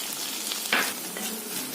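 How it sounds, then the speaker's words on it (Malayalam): Chopped tomato sizzles with softened onion in a pan for Kerala egg curry (mutta theeyal). The steady, close frying hiss is marked by a single sharp spatula scrape. "ഈ തക്കാളി ഒന്ന് വഴറ്റിയെടുക്കണം"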